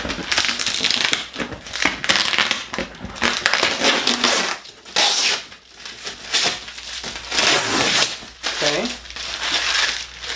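Crinkling, tearing and crushing of tape and packaging as a taped-up oil cooler kit box is pulled open up close, in uneven bursts with pauses.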